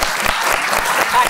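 An audience at a gaming expo clapping, a dense, steady patter of many hands close by, with voices mixed in beneath it.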